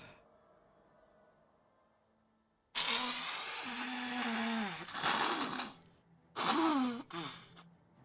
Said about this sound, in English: I need to blow my nose.